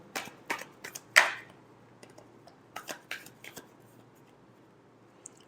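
Tarot cards are shuffled in a quiet room: a run of crisp riffling snaps and taps, one louder flick near the start, then softer scattered clicks.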